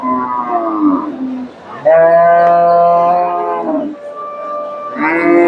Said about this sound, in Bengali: ফ্রিজিয়ান জাতের গাভী